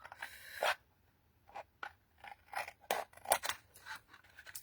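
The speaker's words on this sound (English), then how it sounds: "we can just trim that off" Scissors snip through card paper while trimming the edge of a handmade butterfly embossed DL card, a string of short crisp cuts in quick bursts, close and fairly quiet, with no talking.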